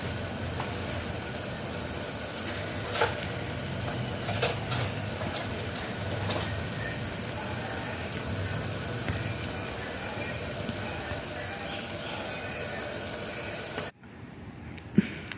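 Snail curry being stirred and frying in oil in a pan gives a steady, moderate hiss across the clip. A few soft scrapes and clicks break through before the sound cuts off abruptly near the end.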